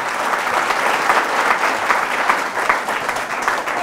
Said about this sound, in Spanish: Fuerte ese aplauso al Señor Jesús